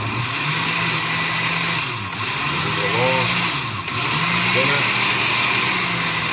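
A kitchen blender mixing homemade sweet and spicy BBQ sauce on its low setting hums steadily up close, with brief pitch dips and restarts as the motor surges and slows.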